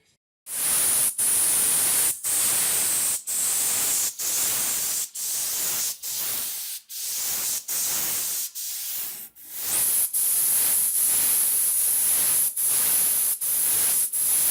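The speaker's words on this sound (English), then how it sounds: "I'm going to prime these areas, then I'm going to block sand again." Spray gun applying primer to a Buick quarter panel over filled areas, a series of loud hissing bursts of about a second each, separated by brief gaps, close and alone.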